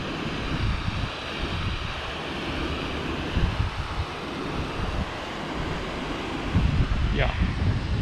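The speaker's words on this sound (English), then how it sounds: "the water will decelerate against these concrete kind of ribs" Water of the Toyohira River in Sapporo rushes over concrete wave-breaker ribs: a steady, broadband roar with gusts of wind noise on the microphone throughout.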